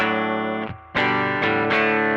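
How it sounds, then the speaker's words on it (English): An electric guitar with a humbucker pickup plays with the drive pedal switched off: sustained chords ring out in a few strums, with a short dip and a pause before the next hit. No voices. "I turn off the pedal, I turn on my volume. Humbucker sound."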